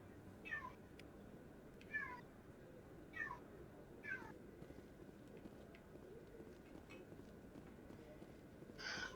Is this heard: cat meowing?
yes